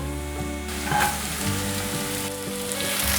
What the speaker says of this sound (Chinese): 快速的翻炒，红萝卜炒至变色了